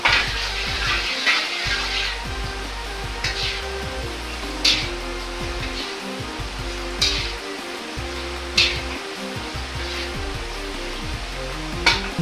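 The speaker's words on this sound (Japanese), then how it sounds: "中華鍋に油を入れ、鍋によく油をなじませます" Oil heating in a Chinese wok sizzles steadily throughout, broken by several sharp metallic clinks and scrapes as the oil is swirled around the pan.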